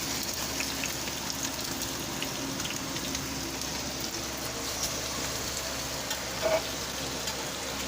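Steady, soft sizzling of steak browning in a hot pan for a Pittsburgh cheesesteak hoagie, a constant crackling hiss at moderate volume with no talking.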